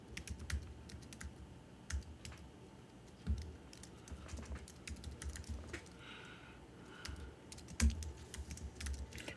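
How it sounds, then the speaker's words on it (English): Fingers tap rapidly on a computer keyboard, a close, steady patter of clicks with occasional louder key strikes and short pauses, with no talking. "that's a lot of typing"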